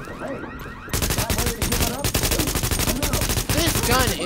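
Rapid automatic gunfire rattles in loud sustained bursts during a firefight in the video game Tom Clancy's The Division, with a brief quieter stretch before the shooting erupts.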